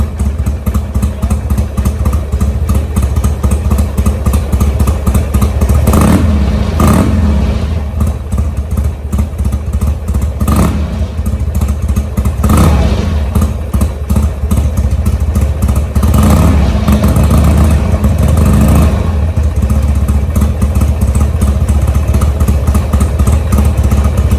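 A Buell XB motorcycle engine runs loud and close, settling into a steady lumpy idle with a few brief blips of revving, mechanical clatter throughout, and no talking.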